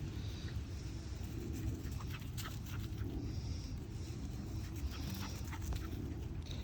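Faint, soft whimpering and whining from an Old English Sheepdog over a steady low background hum, with no clear voices.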